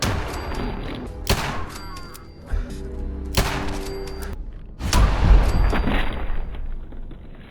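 Gunshots in Fallout 4 come as a few loud separate cracks, with game music and background noise between them.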